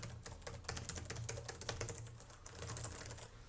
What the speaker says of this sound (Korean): 그리고 타야치는 소리 자체도